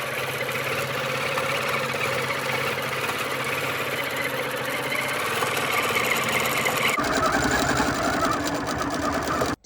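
A QMX quilting machine stitches an edge-to-edge quilt, a loud, steady mechanical whir with rapid needle chatter running continuously, shifting in tone near the end.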